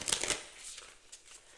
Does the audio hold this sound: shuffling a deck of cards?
yes